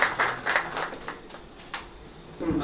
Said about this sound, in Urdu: آپ کی حوصلہ افزائی کے لیے تالیاں کریں۔